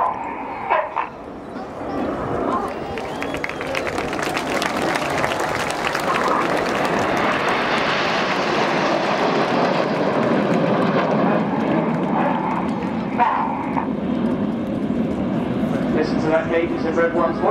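Red Arrows jets roar overhead in formation at the Farnborough Air Show, a loud broad rush that swells to a peak and slowly fades, with crowd noise, a barking dog and a commentator's voice over the public address.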